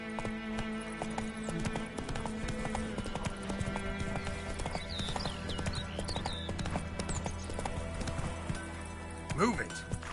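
A horse gallops in The Witcher 3: Wild Hunt, its hooves pounding in a fast, steady clip-clop over a constant game ambience and music, while a voice speaks briefly.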